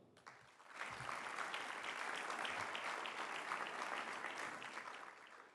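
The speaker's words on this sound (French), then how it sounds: "On peut l'applaudir." Applause rises from the audience for editor-in-chief Laurence Bottero at the opening of the Nice Climate Summit, a dense, even round of clapping that swells quickly, holds for several seconds and then tapers off, heard from some distance.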